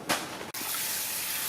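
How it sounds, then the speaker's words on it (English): Plain water gushes steadily into a seedling tray, breaking off for a moment and then resuming as a constant close splashing flow, with no voices. "Then I'll add some plain water to make it the strength that I want it to be"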